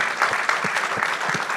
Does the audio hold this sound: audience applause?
yes